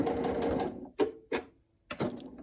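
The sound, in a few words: sewing machine stitching reverse over elastic on pin cushion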